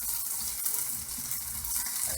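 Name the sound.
thin beef bulgogi slices sizzling in a pan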